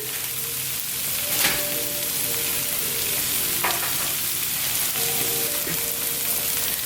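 Bacon frying in a pan during dinner cooking, a constant close sizzle and crackle with a few sharp pops and light stirring, no voices.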